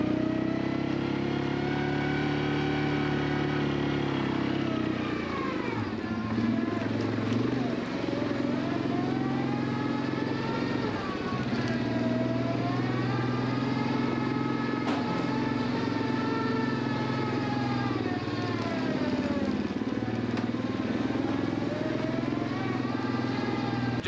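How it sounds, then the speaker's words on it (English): A quad (ATV) engine running steadily while driving on a horse farm, a continuous mid-pitched drone that rises and falls with throttle changes, close and loud throughout. "I had to get the quad."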